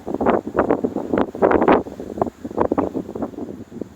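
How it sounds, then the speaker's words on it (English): Wind gusts across an open farm field, buffeting the microphone with loud, uneven rumbling bursts and rustling that rise and fall for several seconds. "gust of wind"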